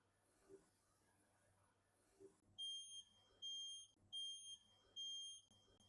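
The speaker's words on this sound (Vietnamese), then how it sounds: "nếu mà nó có dính kim hay là cái gì đó bằng kim loại thì nó sẽ âm thanh tít tít tít" A needle metal detector at a home textile factory beeps in four loud, evenly spaced electronic tones, each lasting about a second, after a quieter stretch of machine hum and faint knocks.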